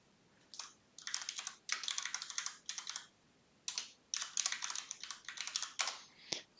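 Someone types a password on a computer keyboard, close and quiet bursts of rapid key clicks separated by short pauses, with a firmer final keystroke.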